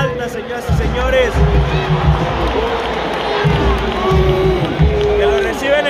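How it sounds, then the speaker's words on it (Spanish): A stadium crowd at a Chivas vs Veracruz football match roars in a continuous dense mass, with cheers and jeers greeting a player coming on, while a commentator talks excitedly over it. "Que lo reciben entre aplausos y abucheos."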